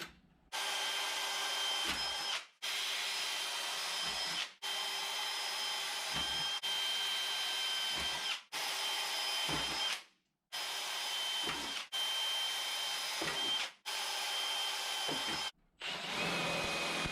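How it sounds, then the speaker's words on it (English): A power drill bores holes through a metal firewall panel being fitted for a fuel cell in an AWD Dodge Colt, running in about eight steady, loud bursts of a few seconds each with short pauses between them, no talking. "Now we just need to drill some holes."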